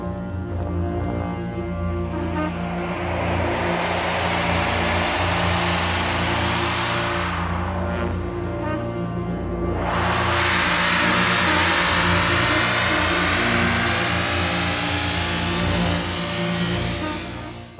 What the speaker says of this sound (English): I figured out a way how to make it swell by spinning the turntable like this.